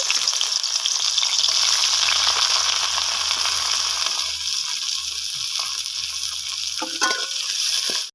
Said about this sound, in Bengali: এবার সেই তেলে দিয়ে দিব আর একটু তেল দিয়ে দিব পেঁয়াজ কুচি